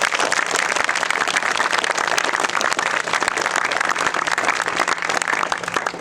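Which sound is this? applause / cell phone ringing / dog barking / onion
applause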